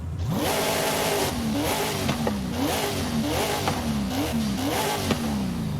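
A loud off-road truck engine in Forza Horizon 5 revs repeatedly, climbing and dropping in pitch through quick gear shifts, steady and close throughout with no talking.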